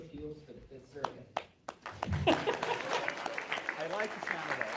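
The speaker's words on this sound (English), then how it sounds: "Thank you for that polite smattering of applause" A polite, scattered round of audience applause at a legal panel discussion on the 14th Amendment, rising after a brief lull and continuing steadily as a broad wash of claps, with speech at the start.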